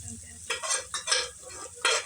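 Boiled chicken pieces frying in a pan for chicken fry, with bursts of sizzling and stirring scrapes that rise and fall in short surges, close and fairly loud, no talk.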